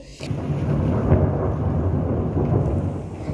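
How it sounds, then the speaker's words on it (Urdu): Thunder from a storm rolls overhead in one long, loud, continuous rumble, with steady rain hiss beneath it and no talk. "ایک دم سے بادل گرجے تو بہت زیادہ ڈر لگا"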